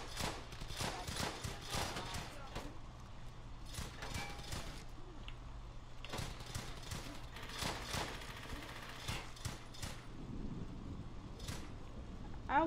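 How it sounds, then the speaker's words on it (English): MG-42 machine gun fire in the World War II shooter game Brothers in Arms: Hell's Highway, dense bursts of rapid gunfire and sharp shots running continuously through the battle without letup. "Attack that MG-42!"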